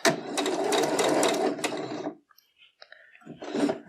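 A sewing machine stitches to lock the end of a seam in one fast, buzzing run of about two seconds. Small clicks and handling noises follow in near quiet, and a voice speaks briefly at the end.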